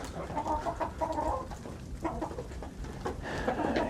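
Several chickens cluck and murmur in bursts, close by, with soft rustling farmyard ambience between the calls.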